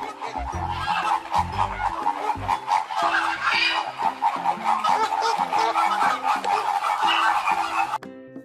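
An educational toy gives a honking, goose-like flamingo call repeated over a bouncy electronic toy tune. The call is loud and close, then cuts off abruptly near the end.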